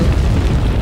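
A loud, dense explosion burst in the video game Resident Evil 4, a low rumbling boom that fills the whole short moment without a pause.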